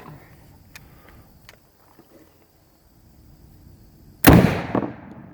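An old shotgun shell fired from a Remington 870 Police Magnum tactical shotgun, one sudden loud close blast after a quiet lead-in, ringing briefly as it decays.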